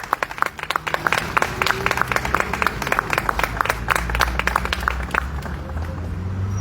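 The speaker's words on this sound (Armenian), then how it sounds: "ծափահարեք ինքներդ ձեզ" A crowd at an outdoor political gathering claps for itself, giving sharp individual claps in an irregular, lively rhythm that holds steady and close, with a low rumble of the crowd underneath.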